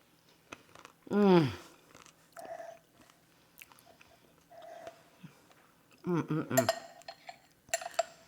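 Crunchy quinoa cranberry crumble on yogurt is chewed with sharp bites and crisp crunches in short bursts, close up, alongside light spoon clinks and a voice speaking between bites.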